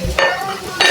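Food is stirred in a pan while bangus cooks, with two quick scraping strokes and a faint sizzle in the background. The sound is close and fairly loud, with no talking.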